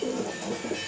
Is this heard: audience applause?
no